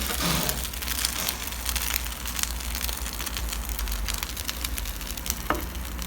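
Cheese-filled bread sizzling and frying in a pan while pressed down, a steady close crackle with small pops throughout, no voices.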